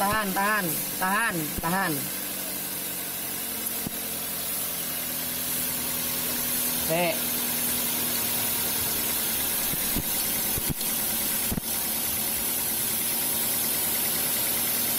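A car engine idles with a steady drone and a hiss that lasts the whole time, during brake bleeding. A few brief chirping sounds come early on.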